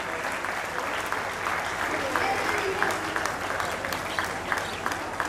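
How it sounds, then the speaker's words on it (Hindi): Sustained applause from an audience at the closing ceremony of a national school football tournament, steady and dense throughout, with a voice speaking faintly beneath it. "Please give them a big hand."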